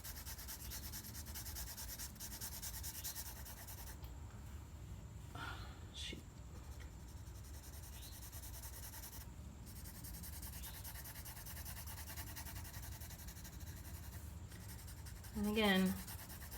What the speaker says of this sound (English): my lightest light is the pencil barely touching the paper